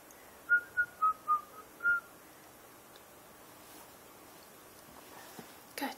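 A short whistled tune of five bright notes in quick succession, fairly clear against a quiet room, then near silence with faint household noises.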